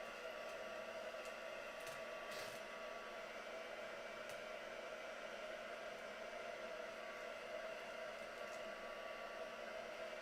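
A hair dryer blows steadily on a piece of craft work, a close, continuous whooshing roar that holds even throughout with no voices over it.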